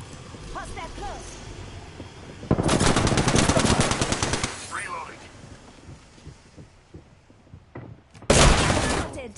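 Bursts of rapid automatic gunfire in a PS4 shooter game, a long volley followed by a short final burst, loud and close over ambient game noise.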